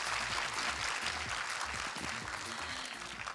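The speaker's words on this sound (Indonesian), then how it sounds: "Tepuk tangan dulu dong buat Pak Dino." A crowd at an Indonesian inspirational talk show applauds a guest, with full, steady clapping from many hands over some low background rumble, easing slightly in the final second.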